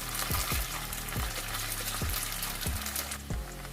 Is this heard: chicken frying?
yes